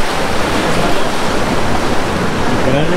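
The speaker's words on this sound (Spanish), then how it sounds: "ya salpica el agua" Sea water splashing against rocks on the Veracruz coast, a loud, continuous wash of surf and spray with some wind noise, close by and alone.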